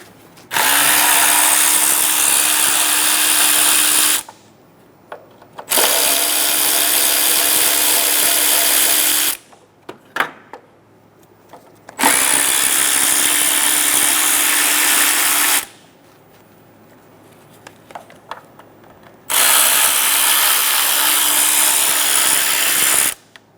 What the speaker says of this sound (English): Using a 10mm socket, we're going to remove all of the bolts for the top 2 covers.